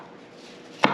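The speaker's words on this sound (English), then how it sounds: "let's go ahead and get some onion chopped here" A very sharp kitchen knife strikes once through an onion onto a chopping block, a single crisp close chop after a quiet stretch of room tone.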